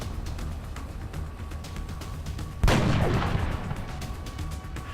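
A single loud sniper rifle shot rings out in the turn-based game XCOM Enemy Within, a sharp blast that decays over about a second, set against a quiet ambient game background.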